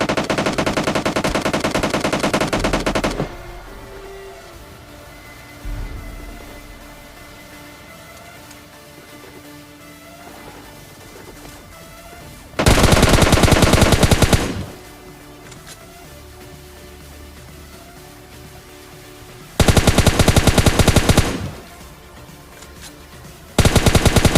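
Automatic gunfire in the mobile shooter PUBG Mobile Lite, loud sustained bursts of rapid shots lasting a few seconds each, separated by quieter stretches of game ambience and a faint thump, with no talk.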